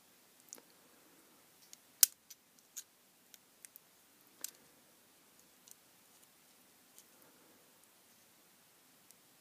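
Small cutting tool working through tape wrapped around a small power supply transformer, with quiet, irregular close clicks and snips over near silence.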